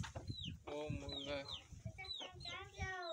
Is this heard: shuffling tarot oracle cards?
no